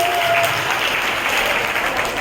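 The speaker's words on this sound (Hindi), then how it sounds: "बच्चों कमल के लिए भी जोरदार तालियां बजाइए।" Schoolchildren applauding at a Children's Day prize ceremony, a steady broad wash of clapping that stays loud and even for the whole stretch, with a faint tonal hum in the background and no speech.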